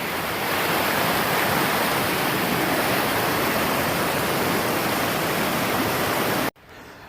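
Kimsey Creek on an Appalachian Trail approach rushes in a constant, loud, close wash of flowing water that cuts off abruptly near the end, with no talking.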